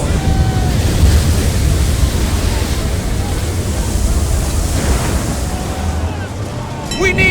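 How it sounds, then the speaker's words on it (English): Howling storm wind and crashing waves at sea in Assassin's Creed 3 roar continuously and loudly as a broad, dense wash, with faint creaks and higher whistles breaking through near the end. "you're into the storm."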